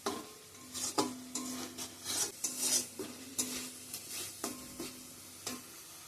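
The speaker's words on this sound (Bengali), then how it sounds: "ডিমের কারির জন্য এদিকে মশলাটা কষানো হচ্ছে।" Spice paste for egg curry fries in oil in a pan, stirred with a spatula: a continuous sizzling hiss carries rhythmic scraping strokes about once a second, close and moderately quiet, with no speech.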